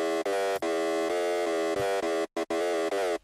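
Screeching synth lead patch, made in Massive. It plays short, loud, harsh, siren-like stabs with gritty, dense harmonics, separated by brief cuts.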